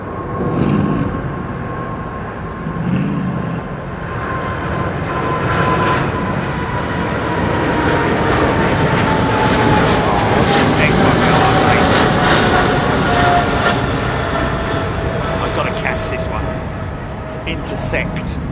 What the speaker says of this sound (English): Intersect departure from this A300, man.